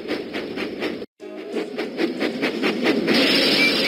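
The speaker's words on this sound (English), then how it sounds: "Percy puffed proudly into the steamworks." Steam train puffing in a Thomas the Tank Engine kids' video game, with a regular chuffing rhythm over a rolling rumble, briefly cut by a dropout before building into a louder hiss.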